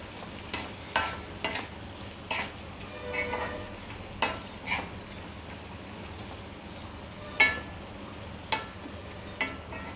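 Bitter gourd pieces being stirred with masala in hot oil in a pan: irregular sharp clicks and scrapes of a spoon against the pan over a low, steady sizzle.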